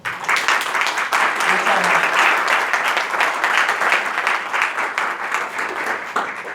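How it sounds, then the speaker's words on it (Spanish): Audience at a conference on immigration gives a strong round of applause, dense and loud clapping sustained throughout with no speech. "pido un fuerte aplauso"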